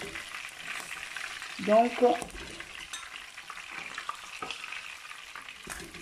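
Chicken browning in a pan for Senegalese poulet yassa makes a soft, continuous background sizzle with faint stirring, and a voice briefly speaks once early on.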